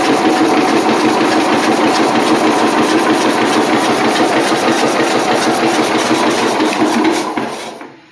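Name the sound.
MTD garden tractor engine running with thumping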